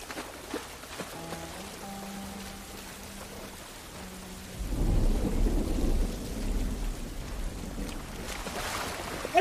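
Thunderstorm in The Last of Us: a low tonal hum gives way midway to a deep rolling thunder rumble over steady rain hiss, swelling loudly and lingering to the end with no talk.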